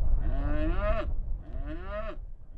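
Grass-fed cows on open pasture give two long, loud moos in succession, each drawn out for about a second, close to the listener with a gap between them.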